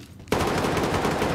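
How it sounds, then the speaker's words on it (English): A gun in the tactical shooter game Ready or Not fires on full auto. After a brief quiet, a loud, continuous rapid-fire burst starts abruptly and rattles on without pause. "My gun now full auto."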